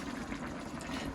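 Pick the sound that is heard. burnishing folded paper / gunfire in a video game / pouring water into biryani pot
pouring water into biryani pot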